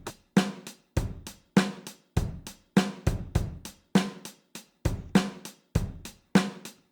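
A percussive drum loop in a complex, syncopated Afro-Cuban-based rhythm plays sharp, dry hits in an uneven groove with varied spacing, clear and alone at moderate volume.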